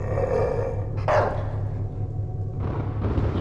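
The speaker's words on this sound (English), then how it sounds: "Why did you put a dog scare there," A dog abruptly barks and growls as a jump scare in a horror video game demo, a loud burst over a constant low droning hum, with a second rougher outburst near the end.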